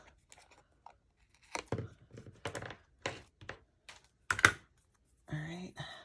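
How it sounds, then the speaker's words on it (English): Small pieces of paper being snipped off in a craft studio: a string of short, close, crisp cuts and rustles with quiet gaps between them, ending in a longer crinkling rustle. "Let me cut off the little pieces."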